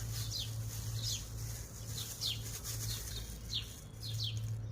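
Small birds chirp in trees beside a street, short bright calls repeating irregularly over a steady low urban hum, fairly near and clear, with no speech.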